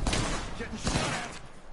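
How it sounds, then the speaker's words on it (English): Bursts of video game gunfire crackle in a tight cluster, a dense volley up front and another around the middle, fading toward the end of a short stretch. "Getting shot at."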